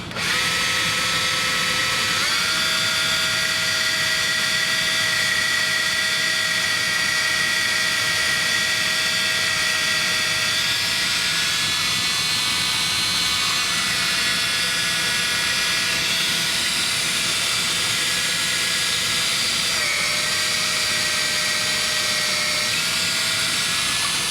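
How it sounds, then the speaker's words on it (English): A power drill whines steadily and loudly for the whole stretch, its pitch dipping briefly as it bores pilot holes into a 2x4, with no voices. "I should be able to drill this straight down nice and true."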